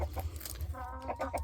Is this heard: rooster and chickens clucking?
yes